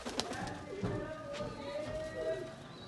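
Pigeons coo softly in a breeding loft of high-flyer and breeder birds in Faisalabad, low murmuring calls mixed with faint background voices and rustling.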